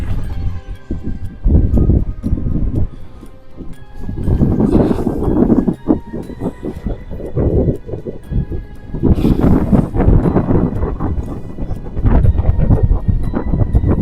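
Strong wind gusts buffet the microphone in a sandy open area, a loud, continuous low rumble that surges and fades across the whole stretch, with rustling and knocking bursts mixed in.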